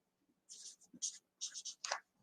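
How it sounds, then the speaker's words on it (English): Pen writing on the back of a Chalk Couture transfer sheet: short, close, soft scratchy strokes in separate bursts, like letters being formed, with quiet gaps between. "I am going to write"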